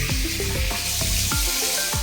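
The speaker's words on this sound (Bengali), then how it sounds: "হাতটা ধুয়ে নিই।" Tap water runs steadily and close by while hands are washed in a home kitchen, a continuous hissing splash with small shifts as the hands move under the stream.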